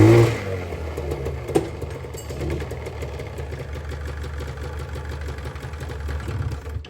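Arctic Cat 440 snowmobile engine idling roughly and unevenly, close and steady with a brief bump early on, sounding like it wants to stall after carb trouble.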